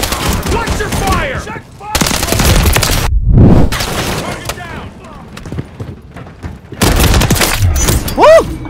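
Rapid automatic gunfire and heavy bursts from a Call of Duty Modern Warfare 3 multiplayer War match, loud and close in several dense volleys with short gaps, mixed with in-game voices and combat effects.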